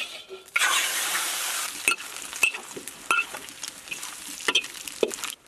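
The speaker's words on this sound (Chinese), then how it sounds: "我把这个肉煸干了，那么子吃起来更香些" Pork slices sizzle and crackle in a hot wok as they are stir-fried in their own rendered fat for Sichuan twice-cooked pork, a loud continuous fry punctuated by sharp spatula scrapes and taps.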